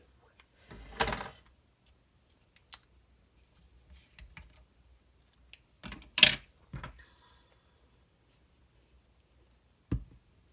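Scissors cutting paper squares in half for a punch board craft project, a few short, sharp snips and crisp rustles scattered across quiet moments, near and faint between them.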